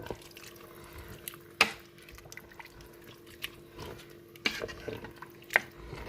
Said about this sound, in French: On va remuer un peu.